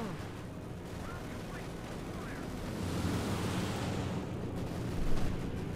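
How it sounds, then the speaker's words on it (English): Strafing-run explosions in a 1v1 Company of Heroes 2 match: a continuous rumbling barrage that swells toward the middle and ends in a sharper blast, under faint commentary. "Calling it a strafing run"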